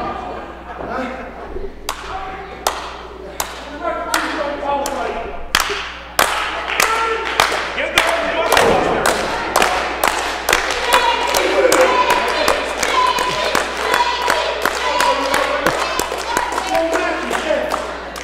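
A crowd at a stunt fight event at Sanctuary Stunt Studio claps in sharp, steady beats that grow denser and quicker, with crowd voices mixed underneath.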